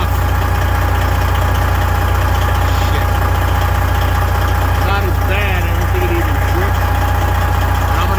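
A diesel truck engine with an oil drip idles with a steady low rumble, close by in a repair shop, while faint background sounds drift in.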